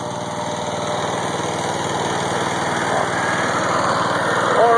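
A homemade DIY Frankenstein-style generator engine drones steadily under load, a close, loud, even running hum with a fast mechanical pulse that swells slightly toward the end.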